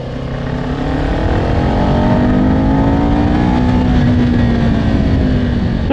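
A motorcycle accelerates hard at Clark International Speedway, its engine loud and near with a steadily climbing, then leveling whine under constant wind roar.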